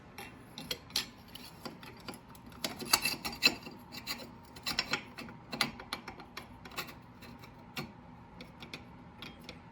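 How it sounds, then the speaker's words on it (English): Metal scrapes, rasps and clicks as a baffle is worked into a Kawasaki ZX6R motorcycle exhaust with an Austin Racing silencer, a close run of irregular scratchy pulls and sharp taps with no talking. "So let's clip that baffle in"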